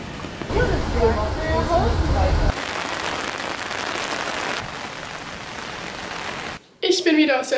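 Heavy rain pours down in a steady, dense hiss on a cold late-July day, loud and continuous throughout, with a brief clearer sound near the end.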